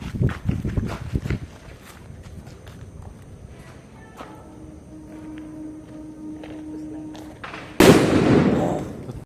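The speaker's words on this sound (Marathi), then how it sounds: "पहिलाच फटाका डायरेक्ट खतरनाक." A Diwali firecracker bursts with a sudden loud blast near the end, followed by a rushing crackle, after scattered sharp clicks, footsteps and a faint steady hum, with some voices in the background.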